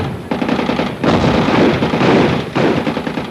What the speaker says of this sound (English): American and Australian warships firing at will